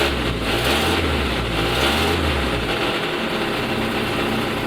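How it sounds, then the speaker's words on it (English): A Jeep Wrangler YJ 2.5-litre four-cylinder with an exhaust leak runs close and loud, a raspy, droning engine note with a slight rev dip early on before settling into a steady rumble. "This Jeep does have an exhaust leak somewhere, which doesn't make it sound"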